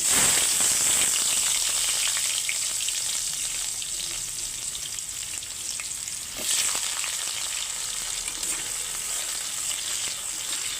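Chopped onion hits hot oil and fries with a loud, dense, continuous sizzle that eases slightly midway, close up and steady, with no voices over it.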